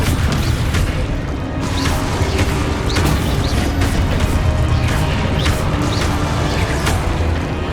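Booming spell explosions and crashing bursts erupt repeatedly during combat in the video game Hogwarts Legacy, dense and loud over a continuous rumbling game soundtrack.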